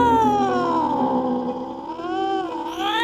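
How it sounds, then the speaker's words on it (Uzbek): A half-dead cat in an animated horror story lets out a long, loud, wavering yowl that dips and rises in pitch, sustained with no other sounds. "U menga qarab irillardi."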